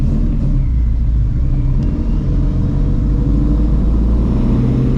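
A supercharged Shelby GT350 Mustang running on E85 fuel, its engine roaring loud and close with a deep, steady rumble from inside the car through a hard pull in third gear.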